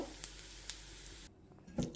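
Food sizzles softly in a pan, a faint, even hiss with a few light taps, fading to near quiet partway through before a brief scrape.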